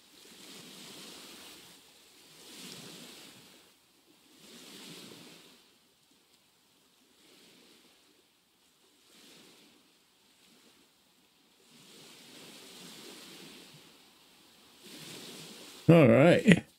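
Gentle waves washing in soft, recurring swells while sailing a boat in the puzzle game A Monster's Expedition, quiet and distant, with lulls between surges and a sudden louder burst at the end.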